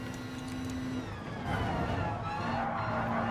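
Onboard engine of a Subaru race car at Brands Hatch in a racing video game, a steady droning whine that rises and thickens midway, with tonal engine hum throughout.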